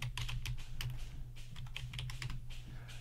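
A command is typed on a computer keyboard in a quick run of light, close key clicks, soft and steady against faint background hum, with no one speaking.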